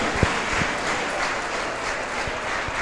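Dense applause from a large church congregation, a continuous wash of clapping with a few sharper claps standing out nearby.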